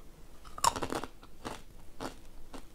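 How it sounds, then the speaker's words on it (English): Crunchy vegan cheese and onion snacks being bitten and chewed close to the microphone, with a sharp first crunch followed by several rhythmic crunching bursts and no talk. "It's lovely and crunchy too."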